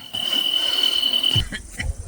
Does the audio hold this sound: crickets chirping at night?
yes